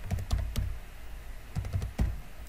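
Keys tapping on a computer keyboard while a file name is typed for a new text document, a few scattered clicks and short bursts of typing, close and fairly quiet.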